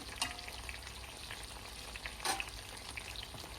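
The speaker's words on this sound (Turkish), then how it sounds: "Biberlerin yüzeyini iyice kızartalım" Peppers sizzle and crackle in a hot pan, a soft steady fry with a couple of brief stirring scrapes, quiet and close.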